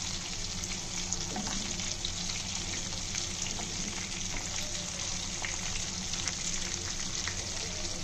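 Jitada barramundi fish, an oily fish, frying uncovered in oil in a pan, a steady dense sizzle and crackle holding even and fairly loud throughout with no pauses.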